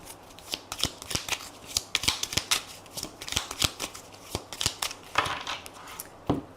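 A deck of tarot cards is cut and shuffled up close, with rapid crisp riffles and flicks in uneven bursts, punctuated by sharper snaps as the cards are squared, and no talking.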